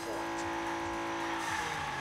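A toy race car drifts in the Hot Wheels Unleashed video game, with a continuous loud engine drone and tire squeal running throughout a short stretch, no talking.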